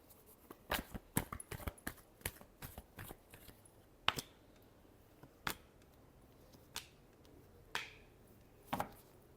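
Tarot cards are shuffled by hand in a quiet room, with irregular crisp riffles and sharp snapping flicks, sometimes clustered and sometimes spaced a second or more apart, close but soft, with no talking.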